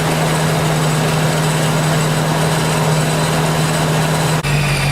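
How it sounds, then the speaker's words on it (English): A supercharged engine on a 1978 Cadillac Seville settles at base idle, a steady close drone with a constant whine running over it, unbroken for the whole stretch apart from a brief dip near the end. "We're down to base idle, and you hear the whine from the supercharger."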